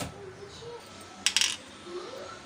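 A metal baking plate is lifted out and set down in a home kitchen while wheat-flour snacks cool, giving a short cluster of bright metallic clanks near the middle over quiet room tone.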